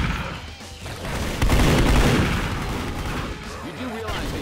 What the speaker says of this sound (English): You do realize that you're shooting me